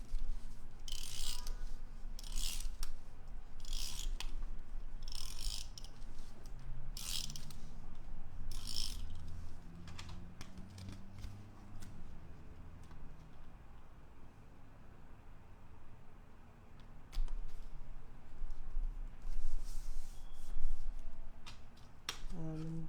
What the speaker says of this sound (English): I'm going to burnish the edge just to get like the glue from that tape runner really firmly affixed